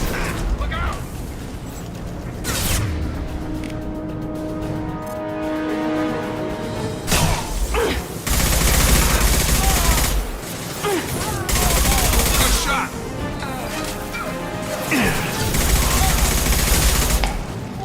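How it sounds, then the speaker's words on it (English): Heavy gunfire in the video game Mass Effect 2 rattles through sustained bursts and bangs, with mechanical whirring and loud impacts, while voices speak over the firefight. "Blue Suns and Borcha shooting anything that moves. I see you, Shepard. Taking heavy fire."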